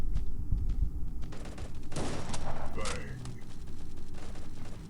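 Machine gun fire in the mobile shooter Guns of Boom rattles in dense, fast bursts with a busy game-sound background, and someone talks over parts of it.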